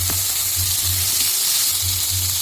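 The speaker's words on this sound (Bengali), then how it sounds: "টমেটোটাকে একটু নেড়ে ছেড়ে ভাজা ভাজা করে নেব এইবারে দিয়ে দিচ্ছি আলু" Potatoes frying in a pan with tomato and a black cumin tempering, giving a loud, continuous close-up sizzle with a low hum underneath and no voices.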